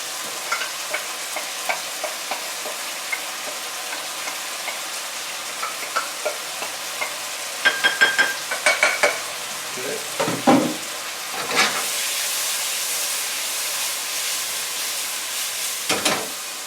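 Zucchini and tomato stir-fry in a pan makes a continuous soft sizzle, with intermittent scraping and clattering stirring strokes that grow louder and busier midway through.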